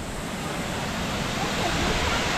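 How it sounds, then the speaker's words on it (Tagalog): Shifen Waterfall in Taiwan roars as a continuous broadband rush of falling water, steady and fairly loud throughout, with no talk over it. "Dito na yung waterfalls, oh."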